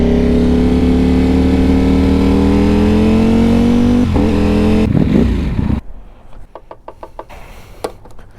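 A motorcycle engine revving and accelerating away, loud and steady with rising pitch, then cutting off abruptly into quieter clicks and knocks.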